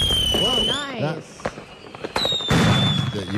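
Fireworks burst in a few sharp cracks and pops amid crowd noise and whistling tones, with people talking over much of the stretch.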